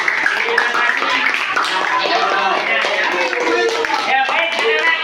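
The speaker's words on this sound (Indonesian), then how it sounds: "Tepuk tangan untuk kita semua." Students in a primary school classroom clap together after a lesson, brisk rhythmic hand claps running throughout, mixed with children's voices and chatter.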